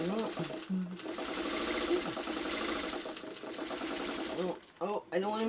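A sewing machine stitching a quilt block seam for a traditional Maple Leaf block runs in one steady, close whirring buzz that stops briefly near the end, with a voice talking lightly over it.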